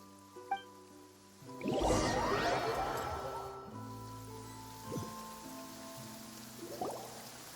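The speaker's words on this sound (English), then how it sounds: "It's been raining non-stop for a few days now" Rain falling in the video game Genshin Impact, a soft patter of drops with splashy, crashing game effects and tonal music layered over it, no speech.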